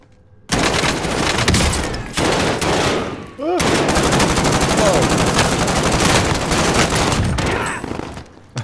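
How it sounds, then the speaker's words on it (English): Loud, dense bursts of automatic gunfire from the video game Warzone, battle royale solos, nearly continuous rattling volleys with a brief pause midway, close and dominant. "I can hear more bang bangs"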